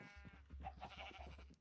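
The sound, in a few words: sheep bleating in Minecraft video game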